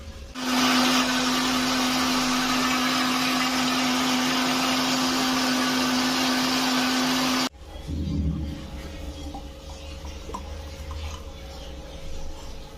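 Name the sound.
mixer blending peeled pomegranate into juice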